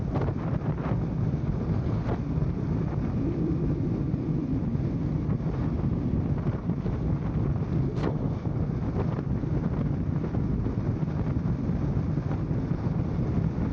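Steady, loud wind buffets a motorcycle helmet chin-mounted microphone with a constant rushing roar, air blasting past at freeway speed.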